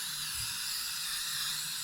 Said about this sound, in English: This is just spray adhesive